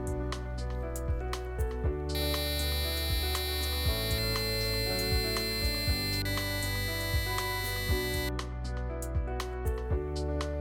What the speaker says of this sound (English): The Piezo Buzzer can be used to create simple music or as an alarm for a variety of sensors.